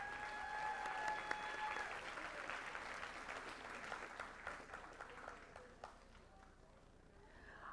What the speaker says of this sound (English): Let's give Anna another round of applause